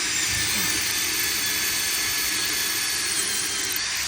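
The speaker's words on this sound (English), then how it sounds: "Just have to put it in the drill" A power drill fitted with a 6mm tile bit bores a hole during a bathroom renovation, giving a steady, loud, high-pitched whine that holds evenly throughout with no pauses and no talking.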